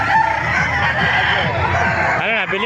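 Roosters crowing at a busy chicken market in Calumpit, Bulacan, with loud overlapping calls close by amid a constant din of other birds, and a clear crow near the end.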